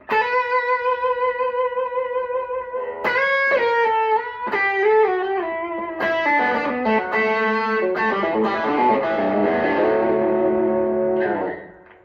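Electric guitar, a Stratocaster-style solid-body, played through a Fender '59 Bassman LTD amp with reverb, sustained chords and melodic notes ringing out with a washy tail, continuous and fairly loud, no voices.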